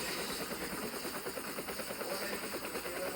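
A helicopter starts up in a Roblox prison escape obby game, a steady dense whirring drone with a faint rhythmic pulse running evenly throughout, loud and close with no talk.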